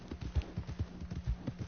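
Horse hooves beat out a quick, even clip-clop rhythm in the video game Red Dead Redemption 2, a run of soft, close thuds at a brisk trot with no voices over them.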